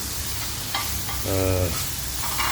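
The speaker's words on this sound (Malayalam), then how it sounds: "അരിഞ്ഞു വെച്ച തക്കാളി അതിനകത്തേക്ക് ഇട്ട്" Chopped tomatoes fry in oil for a Kerala-style chicken roast, a continuous near sizzle with a brief tonal hum partway through and a light knock or two.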